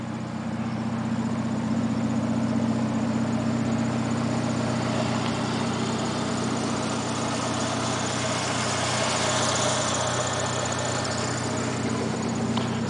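A recently tuned-up car with a 5-speed and chrome rims idles steadily, a smooth low engine hum held at an even level throughout with no talking.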